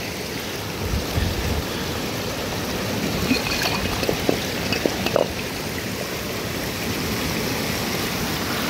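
An iron-rich creek near old mine ruins flows steadily, a dense, continuous rush of water with scattered small splashes and trickles, close and fairly loud with no voices.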